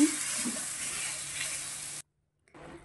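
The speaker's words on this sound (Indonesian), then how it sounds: "kita tumis di wajan yang panas sampai dia meleleh atau mencair ya atau mengeluarkan air seperti ini" Strawberries sauté in a hot pan, giving a steady close sizzle for about two seconds before a brief silence and a quieter return of the frying hiss.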